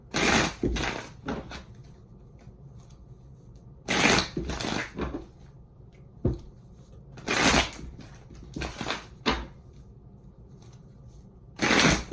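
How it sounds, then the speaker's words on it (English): Repeated riffle-shuffles of a card deck, short crackling bursts recurring every few seconds with softer handling noises in between. "Last shuffle."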